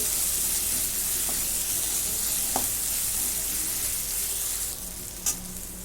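Ginger-garlic paste sizzles steadily in hot oil in a pan, a continuous broad frying hiss with a few light spoon scrapes and taps, close and alone, easing slightly near the end.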